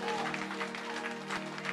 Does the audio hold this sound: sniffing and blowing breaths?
no